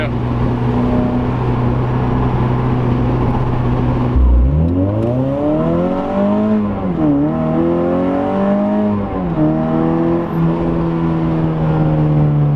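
Ecotec-swapped Mazda Miata making about 160 wheel horsepower, its engine droning steadily, then climbing through several rising pulls with gear changes between them, loud and close throughout.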